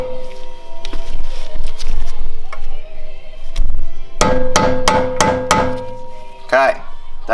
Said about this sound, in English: then we'll stake our stake nut